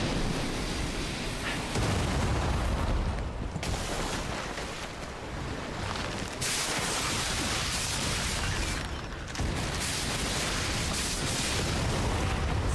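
Shooting and explosions in the Lies of P video game: dense, rumbling blasts and gunfire roar steadily, loud and close, with brief drops in intensity.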